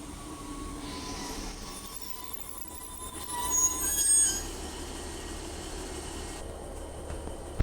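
A Northern diesel multiple-unit train at Guide Bridge station, a steady rumble with thin wheel squeal, a swell in the middle and a faint sharp clank near the end.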